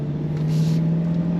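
A 2026 Chevrolet C8 Corvette Z51 Stingray idles after being shifted into drive, giving a steady, close low engine hum with a constant drone and no voices.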